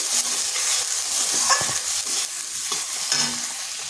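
A spice paste with turmeric fries in a pan with a constant crackling sizzle while a utensil stirs and scrapes through it in short, irregular strokes, close and fairly loud.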